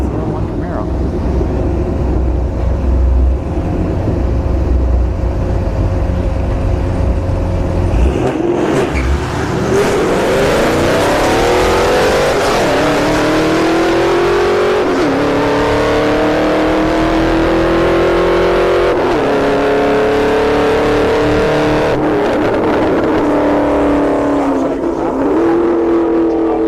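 A Kia Stinger and a 2001 Camaro race down a drag strip, a loud sustained engine roar rising in pitch through gear changes as they accelerate, with a crowd and announcer voices faintly underneath.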